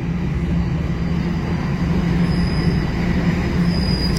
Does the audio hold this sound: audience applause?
no